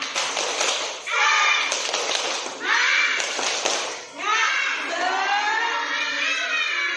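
Schoolchildren in a classroom performing a rhythmic clapping chant together, loud bursts of claps alternating with their sung, shouted voices, close and energetic.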